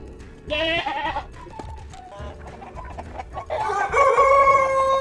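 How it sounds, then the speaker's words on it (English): A rooster crows loudly and close, with a drawn-out cock-a-doodle-doo, a pause of softer clucking between, then a second long, strong crow. "rooster,"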